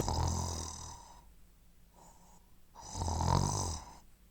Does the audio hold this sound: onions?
no